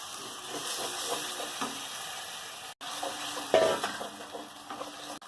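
Marinade water from chicken poured into a pan of frying spice masala for chicken biryani, a steady close sizzle with a sudden louder hiss and bubbling burst partway through.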